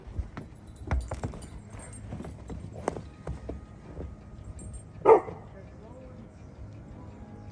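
A dog barks and yips in short bursts indoors, with clattering and jangling between them and one louder bark partway through.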